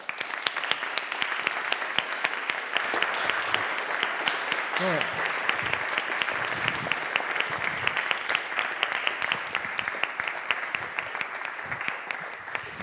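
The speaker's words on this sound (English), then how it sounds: "Please join me in welcoming him with a warm round of applause." A Cambridge Union audience gives footballer Sol Campbell a warm round of applause, dense sustained clapping filling the hall for the whole stretch, with someone speaking briefly over it.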